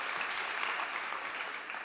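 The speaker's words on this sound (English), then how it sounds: "Can we get a huge round of applause for Maria Kardakova from iCook?" Brief, dense applause from a summit startup-stage audience for Maria Kardakova of iCook, with many hands clapping steadily at moderate distance and no talking.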